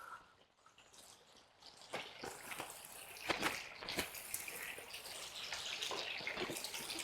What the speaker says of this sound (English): Hanging out in the brook with the dogs.